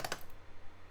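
A computer keyboard on a retro PC tower gets a couple of quick keystrokes at the start, followed by faint, soft clicking that fades away.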